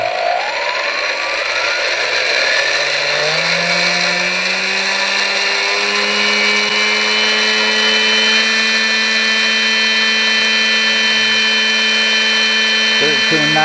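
Electric motor of a Hobbyking MX2 RC plane running on the bench, a steady loud high-pitched whine that rises in pitch as it spins up and then holds a constant drone throughout.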